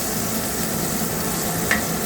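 Onion sautés in hot butter in a pan, giving a steady close sizzle with faint stirring and one small sharp click near the end.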